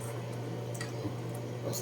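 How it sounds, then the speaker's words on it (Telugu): Ragi porridge mixture stirred in a pot, soft close squishing and dripping sounds with faint ticks over a steady low hum. "మంచిగా కలుపుకోవాలండి."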